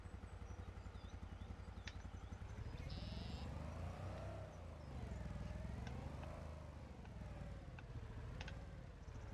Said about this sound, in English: Let's back our Can-Am up here.